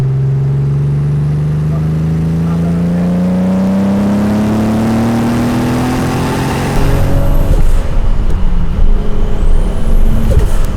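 A Toyota Supra drives at speed on the road, its engine note rising steadily and loudly, then shifting into a rougher, louder roar mixed with wind and road noise.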